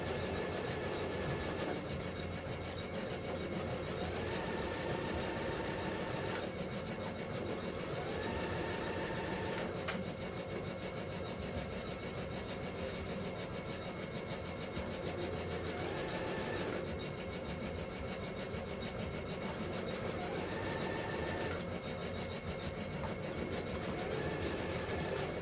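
Sewing machine running steadily, stitching a 5/8 inch seam with a back stitch at each end, a continuous close mechanical whir with brief pauses and shifts in pace.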